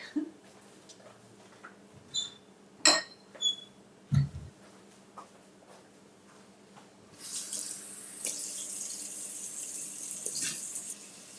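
Tap water running from a faucet to refill a Keurig coffee maker's reservoir, starting partway through as a steady hissing stream that continues to the end, preceded by a few scattered clicks and knocks.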